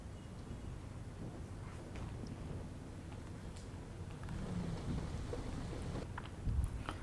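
Heavy monsoon rain pours down on Mumbai, a continuous, fairly soft hiss of rainfall that swells slightly toward the end.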